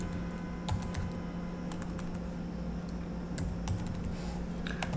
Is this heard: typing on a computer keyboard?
yes